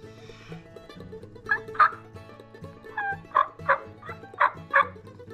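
A wild turkey gobbler, calling from a tree roost, gobbles repeatedly, a series of sharp rattling calls some distance off, with soft clucking between bursts and no talking.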